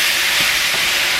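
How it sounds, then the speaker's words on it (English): Pieces of lemongrass chicken stir-fry in a hot pan, an even, loud hissing sizzle that holds steady and close for the whole moment, no talking. "we're going to saute this, stir frying it for another 2 to 3 minutes"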